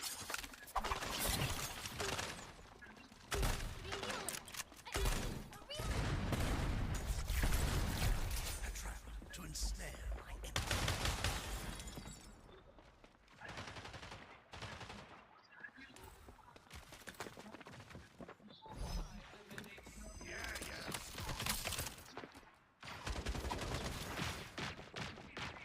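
Rapid bursts of turret gunfire from the shooter game FragPunk ring out in loud repeated volleys across a competitive match, heavily layered under excited commentary voices talking throughout.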